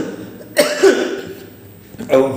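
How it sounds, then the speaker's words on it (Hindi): Two short, rough coughs, one early and one near the end, close to the microphone with a quiet pause between them. "खांसी भी हो रही है"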